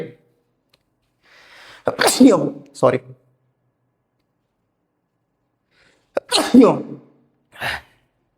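Two sharp sneezes a few seconds apart, each with a quick intake and explosive burst, close by, with a short spoken word between them.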